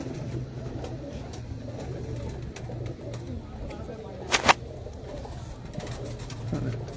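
A prized rooftop pigeon coos in low, steady rounds, with a short sharp clatter midway and faint background voices.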